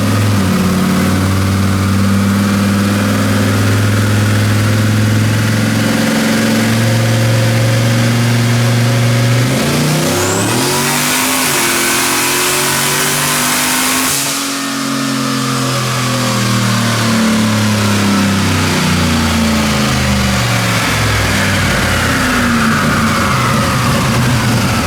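Boosted 4.8 engine running on 60% ethanol, loud and close, pulls hard through the gears, its pitch climbing, dropping at a shift, then climbing again in a continuous roar.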